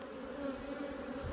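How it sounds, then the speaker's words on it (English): Honeybees flying around a hive, a continuous soft buzzing hum from many insects, faint and steady with no talk. "Lovely stream of bees."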